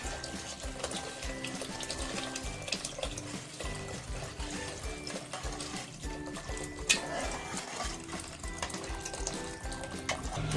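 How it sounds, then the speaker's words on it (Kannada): Hot water pours from a kettle into a pot of mushroom biryani, a continuous splashing stream with faint stirring and clinks throughout. "ಸೊ ನಾವು ಡೈರೆಕ್ಟಾಗಿ ಕೆಟಲಿಂದ ಹಾಕೊತಾ ಇದ್ದೀವಿ."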